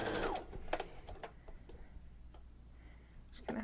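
Sewing machine fitted with a binder foot feeding twill tape, running in short, close bursts of rapid ticking stitches separated by pauses and small handling noises.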